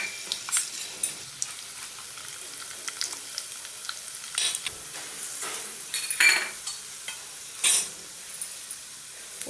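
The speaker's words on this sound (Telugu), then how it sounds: "వేగుతున్నాయి, చిటపటలాడుతున్నాయి" Tempering spices and dry red chillies crackle in hot oil as a scattered series of sharp pops and spits over a faint sizzle, with a few louder bursts and utensil clinks, no talk.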